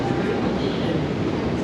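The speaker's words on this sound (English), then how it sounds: "you can hear the rumble of Bakerloo Line trains" Low continuous rumble of London Underground Bakerloo Line trains heard from the top of the escalators at Maida Vale station, a steady muffled roar filling the short clip.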